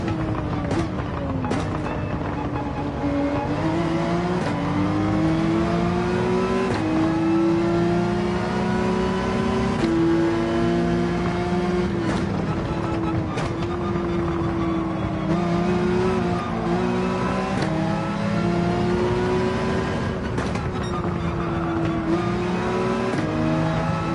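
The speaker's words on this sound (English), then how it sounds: "let's drag race down this section. Pretty evenly tied on an acceleration" Race cars accelerate side by side down a straight in a Gran Turismo 7 drag race, engines roaring loudly and steadily as their pitch climbs through the gears and drops sharply at each shift.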